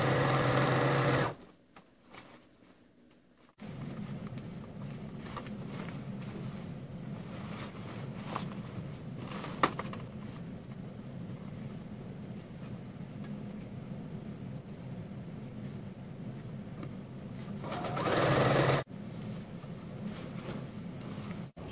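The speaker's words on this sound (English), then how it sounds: "go over it with the sewing machine." A sewing machine stitches pleated African print fabric in long continuous runs, its fast mechanical whir steady and close. It pauses briefly near the start and again near the end, with short louder bursts of handling noise in between.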